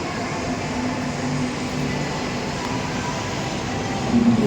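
A train approaching inside Hi-Lite Mall in Thrissur, a steady dense rumble running throughout at even loudness, with a slight swell and a brief higher whine near the end.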